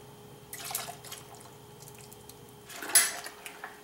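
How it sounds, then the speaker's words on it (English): Hot water swirled inside a container to rinse out the last of some honey, heard as two short bursts of sloshing and clinking with faint drips between them, close by and otherwise quiet. "I've used a small quantity of hot water along with swirling this around the outside with hot water to coax the last of the honey out"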